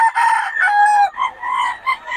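A rooster crows close by, a long drawn-out call followed by shorter broken notes, loud and clear with no talking; a gamefowl among birds offered by a seller in the Philippines.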